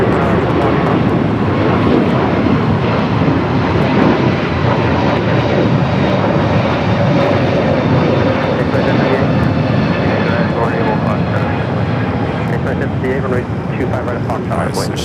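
A United airliner on its takeoff roll from runway 25 right at LAX gives a loud, continuous engine roar that holds steady throughout, with people talking over it.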